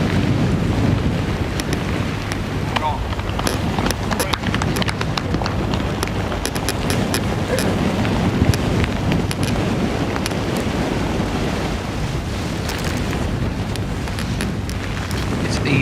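Strong, steady wind buffets the microphone on an exposed golf course during a professional tournament, a continuous loud broadband roar with gusty rumble throughout and no clear voices.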